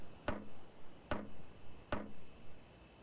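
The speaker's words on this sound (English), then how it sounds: "Hammer them in." Three evenly spaced, sharp hammer knocks in the survival video game Escape The Pacific, about a second apart, over a constant high cricket-like insect drone from the game's island ambience.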